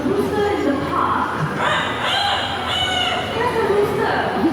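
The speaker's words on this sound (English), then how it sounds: "Where's the rooster?" A rooster crows out in a Singapore bird park, a strained, drawn-out call ringing above a constant murmur of visitors and outdoor noise.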